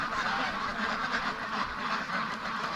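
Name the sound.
free range ducks quacking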